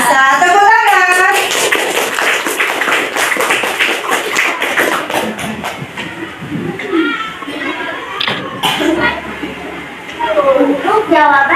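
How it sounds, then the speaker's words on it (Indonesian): Classroom of students clapping in a rough, uneven burst of claps and taps, with children's voices chattering and calling out loudly across the room over and between the clapping. "Tepuk tangan."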